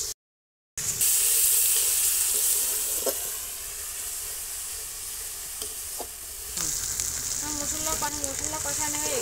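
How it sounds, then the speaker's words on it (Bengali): Spice paste for a country duck egg curry is stir-fried in oil, giving a steady close sizzle with occasional scrape and clink accents. The sound briefly drops out at the start and turns brighter near the end, where some tonal voice-like sounds appear. "এরকম করে নাড়ায় ছাড়ায় সব মশলাগুলো ভালো করে কষাই নিতে হবে"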